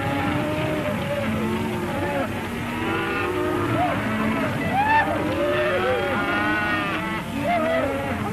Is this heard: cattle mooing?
yes